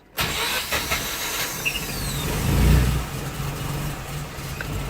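A Mazda RX8 engine, on a car having its ignition system tuned, cranks and runs roughly as it struggles to keep going, a steady close rumble that swells briefly near the middle before settling back.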